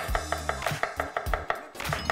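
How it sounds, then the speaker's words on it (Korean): A kitchen knife finely chops green onion on a cutting board for mapo tofu, giving a quick, even run of close, crisp chops, about six per second. "대파 같은 경우는 네. 잘게 썰도록 하겠습니다."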